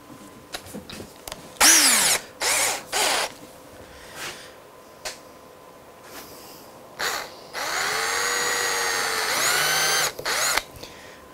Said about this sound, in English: it's just a case of drilling a nice little hole with a good quality brad point bit